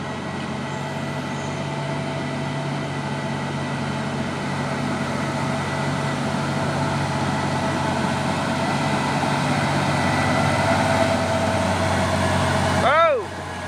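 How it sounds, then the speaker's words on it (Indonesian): A CPO tanker truck labors up the steep Bukit Kodok hill with a steady, droning engine hum and a hiss of air brakes near the end, and someone talks over it. "ini juga ada satu nih truk tangki CPO melewati tanjakan Bukit Kodok di"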